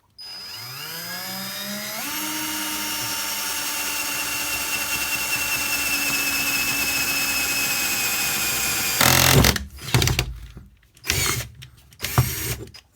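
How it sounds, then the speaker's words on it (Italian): A power drill fitted with a resharpened Bosch 5.5 mm bit winds up with a rising whine, then bores steadily and loudly for several seconds, ending in a few harsh, uneven bursts as the bit breaks through or the clutch slips; no one speaks. "Proverò a fare il primo foro con questa e poi il paragone con le altre filate da me."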